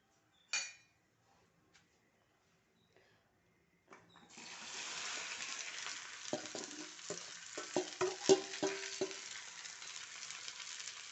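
Okra hits hot oil in a pan with a few faint knocks, then a loud steady sizzle starts and keeps going while a utensil scrapes and clatters against the pan.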